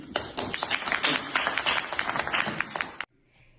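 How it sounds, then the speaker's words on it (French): An audience applauds after a doctoral thesis defense at a French university, a dense burst of many hands clapping continuously for about three seconds before it stops abruptly into near silence. "on peut vous applaudir"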